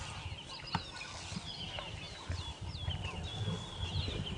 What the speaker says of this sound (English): Cape turtle doves, or ringneck doves calling all the way down the valley.